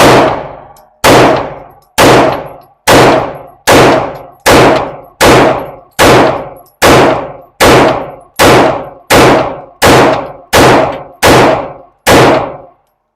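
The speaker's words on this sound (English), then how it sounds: "First 17 rounds in the Taurus TS9mm, going center mass." Seventeen shots from a Taurus TS9 9mm handgun at a range, loud sharp reports at a steady pace under a second apart, each with a short ringing decay and no talking.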